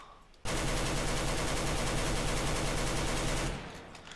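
In Counter-Strike: Global Offensive, an AK rifle lets off one long, loud, sustained automatic burst of dense rapid gunfire lasting about three seconds, then cuts off abruptly.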